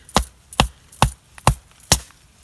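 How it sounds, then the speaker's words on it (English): Five evenly spaced sharp wooden knocks ring out in the woods as a length of wood is batoned in half with another piece of wood used as a striker, each blow crisp and close with quiet gaps between. "So the first thing I need to do is to batten it in half"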